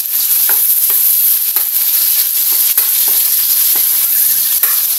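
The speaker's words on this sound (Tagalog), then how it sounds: "Brown lang natin ng konti yung bawang at sibuyas." Garlic and onion browning in a pan give a bright, constant hiss of frying, close and fairly loud, with occasional soft clicks of a utensil stirring; no talking.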